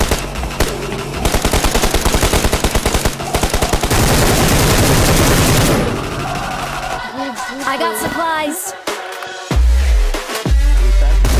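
Rapid bursts of automatic gunfire rattle loudly through a battle royale video game firefight, dense and continuous for several seconds before giving way to scattered game sounds and a few heavy booming shots.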